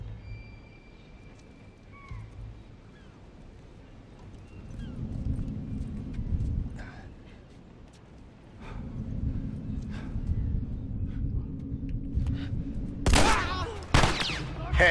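Gunfire from The Last of Us Remastered on PS4, a short cluster of sharp, loud shots near the end after a stretch of rumbling game ambience and hoof-like clatter.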